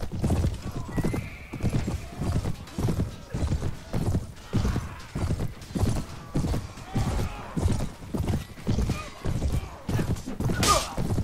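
A horse gallops in the video game Mount & Blade Warband. Steady, rapid clip-clop hoofbeats thud close and loud throughout, with faint battle sounds behind them.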